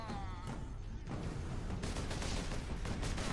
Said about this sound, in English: That's a bolt pistol.